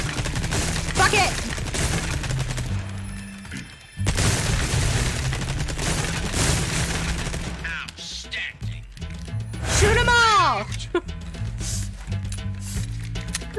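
Weapons firing in the Resident Evil 4 Remake game: repeated gunshots and booms over a dense, busy game soundscape, with a brief drop-out midway and a whooshing sweep near the end, loud and close.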